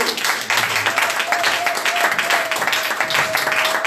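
A church congregation applauding together, a steady wash of many hands clapping throughout, with a faint voice or tone running underneath.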